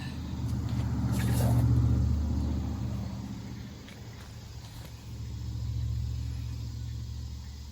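A BendPak QuickJack 5000 lb car lift rises slowly with no vehicle on it, giving a steady low hum and rumble that swells and eases across the stretch, with a faint mechanical tick early on.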